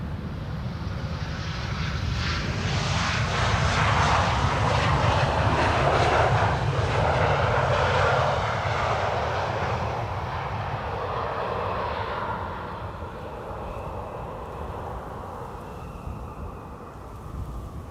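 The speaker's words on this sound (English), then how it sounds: "You can hear the departures from runway center taking place." Airliners departing from the runway at Amsterdam Schiphol Airport, a loud jet roar that builds over the first seconds, holds steady, then slowly fades into distant rumble and wind.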